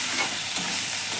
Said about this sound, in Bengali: এবার লতিটা দিয়ে এই মশলাটার সঙ্গে আমি এখন সুন্দরভাবে একটু কষে নেব।